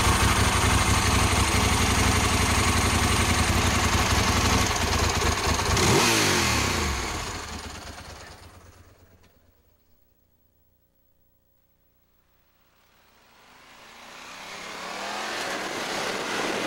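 A Ducati 916 motorcycle engine runs loud and close with a steady rumble, then blips and fades away to near silence. After a pause it rises again as the bike comes back.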